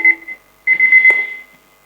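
An alarm sounds in short, bright electronic beeps: a quick burst, a pause, then a longer run of rapid pulses that fades out, loud and close.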